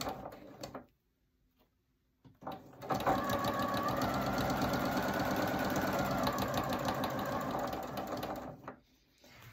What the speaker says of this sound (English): go ahead and use a 1/4-inch seam allowance and stitch them together